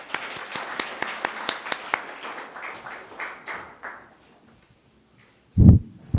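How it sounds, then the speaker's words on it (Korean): An audience at a panel discussion claps to welcome a speaker, a run of brisk claps that fades out over about four seconds, followed by a short thump. "박성현 원장님 큰 박수로 맞이해 주시기 바랍니다"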